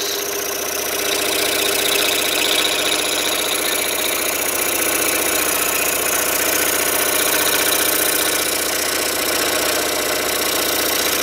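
A scroll saw runs steadily with a single flexing strip of sandpaper mounted in place of the blade as a sander, a continuous loud motor drone with fine rapid vibration and no voices throughout.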